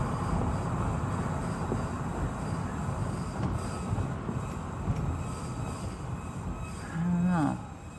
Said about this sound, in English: See if you guys can hear my brakes.